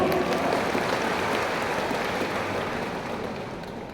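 Congregation applause at a GIDI church anniversary worship service, a diffuse, rain-like patter of many hands heard somewhat distantly, holding steady then gradually fading toward the end.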